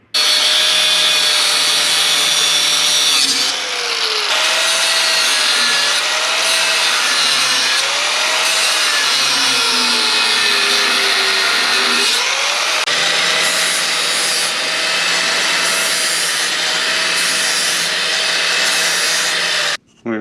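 A flap disc grinds and smooths steel on a Jeep Willys body during a rebuild, giving a loud, steady abrasive roar with a wavering motor whine that holds for the whole stretch with only a brief dip.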